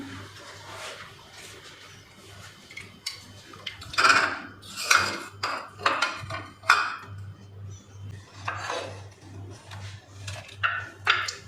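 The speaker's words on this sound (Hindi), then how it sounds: "ये मैं प्लेट में डाल रही हूँ, देखें।" Kadhi pakora being served from a pot onto a plate, with irregular close clinks, taps and scrapes of utensils against cookware coming in short bursts, no talking.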